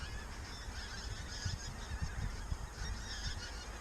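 A large flock of pink-footed geese honks continuously on a frosty morning, a dense, distant-to-mid-range chorus of overlapping calls with steady background rumble and no speech.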